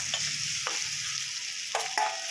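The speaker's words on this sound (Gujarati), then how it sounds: "તો આપણે તેને બધા મિક્સ કરી નાખશું" Potatoes are stirred with chutney in a pan for dry potato sabzi, a steady frying sizzle with several scraping stir strokes of a spoon against the pan, close and fairly loud, no talking.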